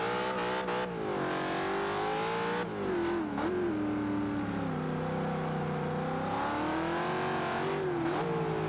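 A Mustang in the Forza Horizon 2 racing game drives and throws itself into a corner: loud, steady engine drone with rising and falling revs, pitch dipping briefly around the gear shifts. It is heard alone, with no talking.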